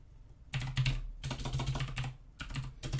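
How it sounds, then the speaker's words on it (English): Quick clacking keystrokes on a computer keyboard as a key code is typed in short bursts, close and clear with brief pauses between runs of keys. "type code on lock."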